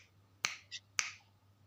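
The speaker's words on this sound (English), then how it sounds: "I just have to snap my fingers twice." Two crisp, close finger snaps about half a second apart, sharp and dry against a quiet low hum, with a faint softer click between them.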